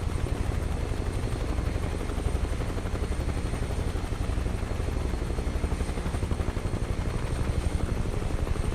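A UH-1 Huey helicopter in flight, its rotor blades beating in a fast, heavy, steady chop over engine roar, loud and close throughout with no talk.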